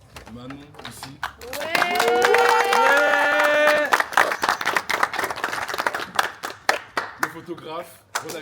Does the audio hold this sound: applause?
yes